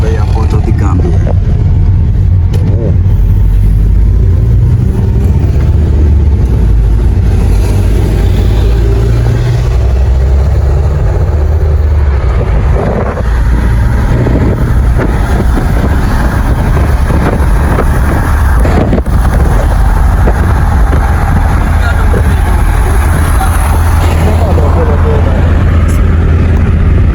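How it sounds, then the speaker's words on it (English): A car drives toward Banjul international airport in the Gambia, giving a loud, steady road and engine roar with heavy wind buffeting throughout. "We're going to drive to the international airport of the Gambia."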